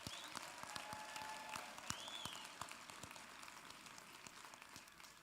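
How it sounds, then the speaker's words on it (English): Applause at a university graduation ceremony for the Faculty of Science and Agriculture, quiet and somewhat distant, with individual claps standing out from a soft crowd wash that gradually fades. "A round of applause"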